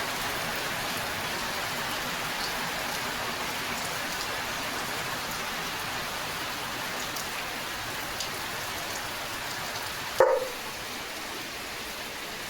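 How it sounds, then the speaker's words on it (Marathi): Steady afternoon rain falls outdoors, a continuous even hiss of drops on surfaces, with one brief dog bark near the end. "दुपारी दुपारी पाऊस पडायला लागला"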